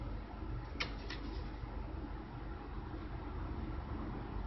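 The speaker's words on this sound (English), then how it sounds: "And all kinds of birds as well." Birds calling outdoors, with two short, faint chirps early on over a steady bed of outdoor background noise.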